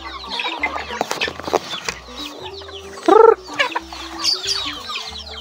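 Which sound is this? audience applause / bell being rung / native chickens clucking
native chickens clucking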